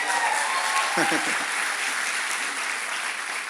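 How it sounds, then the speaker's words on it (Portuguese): A church audience gives a round of applause for its pastors, a loud, continuous bed of clapping with a brief voice speaking over it near the start. "Uma salva de palmas para os seus pastores, então."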